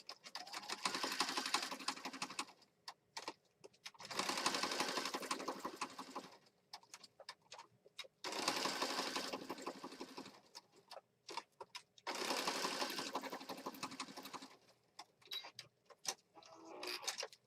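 Sewing machine stitching around a fabric piece in a mixed media craft session, running in four steady bursts of a couple of seconds each with short pauses and small clicks between them.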